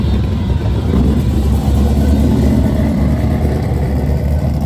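A 6.1-liter SRT8 V8 car engine roars steadily and loudly at close range, a continuous low rumble with sustained revving throughout and no talk, at a drag racing event.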